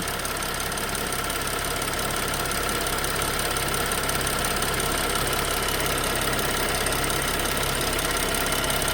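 A 2016 BMW X5 engine idles after a spark plug replacement, a steady, even drone with a light rapid ticking that runs unbroken and close by, with no voices.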